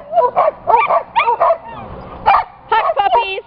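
Several dogs bark and yip excitedly in quick bursts before going out for a walk, close and loud, with short pauses between clusters of barks.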